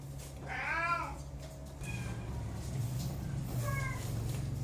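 A Bengal kitten gives a couple of short, fairly faint meows indoors over a low steady hum, with a second, softer call near the end.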